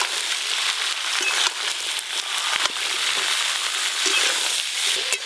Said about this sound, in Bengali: চাপা দিয়ে একটু ভালো করে ভেজে নেব।